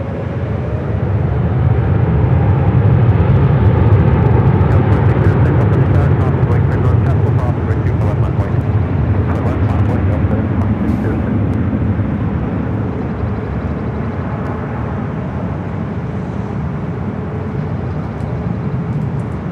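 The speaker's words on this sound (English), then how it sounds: "It's a 6-year-old A350-900 heading to Shanghai" A six-year-old Airbus A350-900 departing LAX for Shanghai, its broad continuous jet rumble strong and steady, loudest early and easing slightly later.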